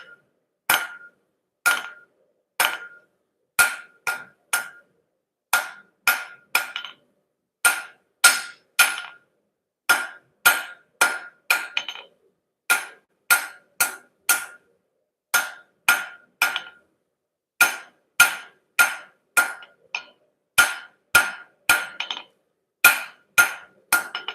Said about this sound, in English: We're starting to draw that steel out